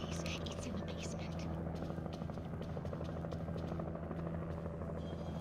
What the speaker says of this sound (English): The helicopter's just waiting